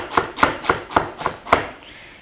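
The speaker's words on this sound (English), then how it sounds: "So we'll just chop up some celery quickly." Celery chopped roughly with a knife on a board, six crisp, evenly spaced cuts close by, each a sharp crunching thud, then a short quiet pause.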